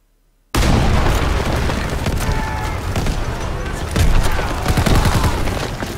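Sudden loud barrage of gunfire and explosions in the video game Call of Duty WWII as shots hit a tank, starting abruptly after a brief silence and staying dense, with a heavier burst near the end.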